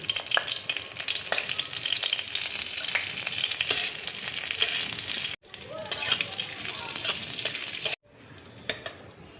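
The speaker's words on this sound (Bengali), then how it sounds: "ঘি দেখো মেল্ট হয়ে গেছে। এবার আমি গোটা জিরে দেখো দিয়ে দিচ্ছি" Whole cumin seeds sizzle and crackle in melted ghee in a wok, a steady close frying hiss with short breaks where the sound cuts off briefly.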